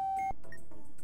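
Electronic beep from the Simon Says module in a bomb-defusing video game: one clean, steady tone lasting about a third of a second, then a faint softer blip, alone.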